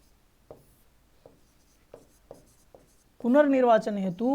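Chalk or marker writing on a board during a Hindi lecture on election rules, a few short scattered scratches before a voice comes in loudly over the last second.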